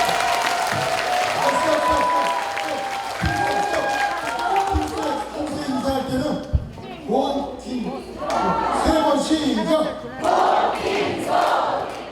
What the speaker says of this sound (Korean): 킹스의 박수!